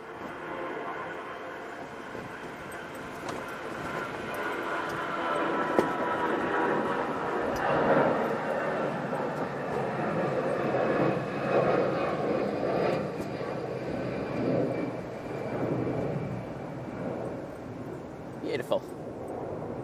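An airliner rolling out for takeoff from a runway intersection gives a steady broad roar of engine noise that swells gently and holds for the whole stretch, with a voice talking over it at times.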